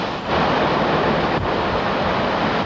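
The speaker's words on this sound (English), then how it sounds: "The waves are already lapping up on the road to my left" Hurricane wind and surf pounding the Carolina coast as the storm nears landfall, waves washing up onto a road; a loud, steady roar of crashing water and gusting wind buffeting the microphone, with no voices.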